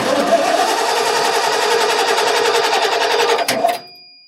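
A 1989 Ford F150 pickup, a long-stored barn find, cranks steadily without catching, a dense continuous whirring grind that runs loud for several seconds before cutting off abruptly.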